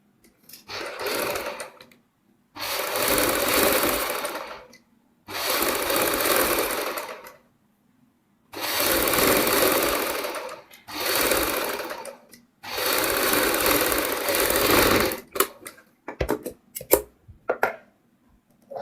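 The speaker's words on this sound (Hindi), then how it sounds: "यहाँ पे उसको नीचे रखते हुए बुकरम के साथ साथ एक सिलाई लगाएंगे।" A sewing machine stitches fabric along buckram for a kurti neckline in six loud, close bursts of rapid whirring separated by short pauses, then a few quick clicks and handling sounds.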